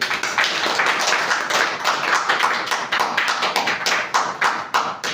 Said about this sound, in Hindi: चलिए इस बच्चे के लिए एक जोरदार ताली।